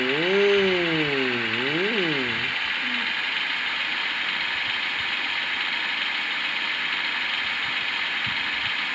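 A bus engine revs in a driving video game set in hilly terrain, rising and falling twice in quick swoops before settling into a steady, loud mechanical drone.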